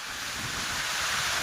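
Loud, close rushing of splashing water from waves fills every moment as a steady broadband roar, mixed with wind buffeting the microphone; no voices.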